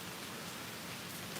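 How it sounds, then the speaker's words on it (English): Steady, dense rain patters on surfaces outdoors, a continuous broadband wash of drops at moderate level with no voices or thunder. "You like the rain?"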